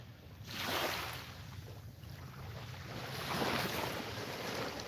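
A small fishing boat moves across glassy, calm water, giving a soft, steady wash with gentle lapping and light breeze noise throughout, fairly quiet and with no talking.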